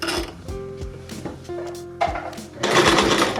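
A domestic sewing machine stitches a zipper in short bursts of rapid mechanical whirring, broken by clicks and handling knocks, ending in a louder continuous run of stitching.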